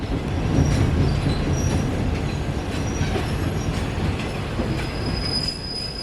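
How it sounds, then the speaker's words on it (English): A tourist train on the Thailand–Burma Death Railway rumbles steadily along the rails at low speed through hilly country, with a loud continuous roar and faint wheel squeals rising above it. "The train also doesn't go very fast here and slows down even further when entering the hilly areas."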